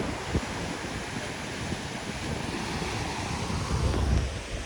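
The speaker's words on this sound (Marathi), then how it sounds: "लाटा कसल्या येतात" Sea waves washing onto a long beach at sunset, a continuous roar of surf mixed with gusty wind buffeting the microphone, swelling slightly louder toward the end.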